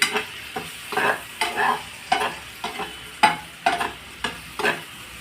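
Sour spinach and fish being stirred as they fry in a pan, with fresh coriander leaves going in: repeated scraping stirs over a steady close sizzle, loud and rhythmic, no talking.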